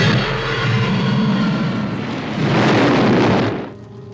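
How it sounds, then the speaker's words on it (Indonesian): Bombs planted at an Antarctic research station are set off by dynamite in a film. A deep, rumbling explosive roar swells and surges to a loud peak, then cuts off abruptly near the end. "lalu membuat semua bom yang ia tanam meledak,"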